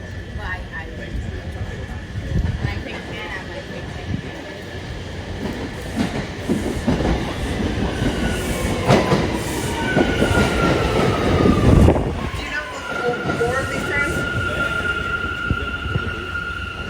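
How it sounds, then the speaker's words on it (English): A New York City subway A train rides along, a loud rumbling roar with rattling carriages and rising wheel squeals, swelling and easing over time while people talk nearby. "we're on an A train"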